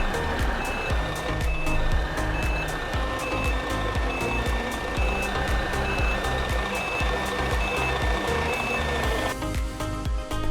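A bus in Euro Truck Simulator 2 backs into a supermarket car park, its reversing alarm beeping in a steady, evenly spaced series over a continuous rumbling engine and traffic noise throughout.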